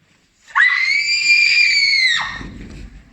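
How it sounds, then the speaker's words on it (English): A girl lets out one long, piercing scream of horror, loud and sustained for nearly two seconds before cutting off into a low rustle. "The girl let out a horrified cry and screamed before sinking to the ground."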